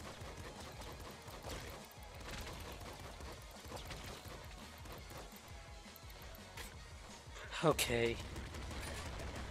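Machine gun fire in the top-down shooter Nuclear Throne chatters in quick repeated bursts at low volume among other game effects, with a brief spoken word and a sharp louder hit near the end.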